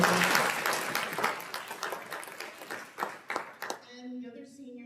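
A high school senior awards audience claps for an absent student, a moderate burst of applause fading out over a few seconds before a voice begins talking at the end.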